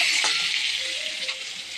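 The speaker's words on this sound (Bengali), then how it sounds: "এদিকে ডাল ফুটছে" Dal (lentils) bubbling in a pot on the stove, a steady hissing sizzle with a few soft pops, close and continuous.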